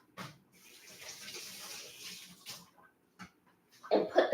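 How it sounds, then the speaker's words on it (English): Water from a running kitchen tap rinsing a utensil, a soft hissing stream that starts and stops in short bursts, quiet and close, with a louder splash near the end. "Now I have to rinse this off"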